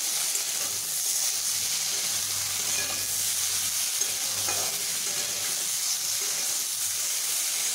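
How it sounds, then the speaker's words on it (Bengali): Small river fish mixed with salt fry in hot oil, a loud, even hissing sizzle up close, broken by occasional light stirring scrapes, with no speech. "নুন দেওয়ার পরে আমি ভালোভাবে নুন মিশিয়ে এগুলোকে ভেজে নেব।"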